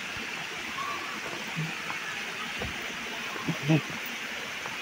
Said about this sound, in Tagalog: Ayan mga falls, guys. Ayan ang falls.